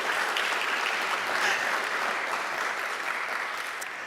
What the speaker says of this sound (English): Let's applaud for Doreen again.